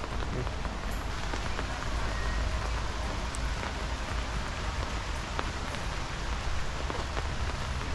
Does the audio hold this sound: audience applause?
no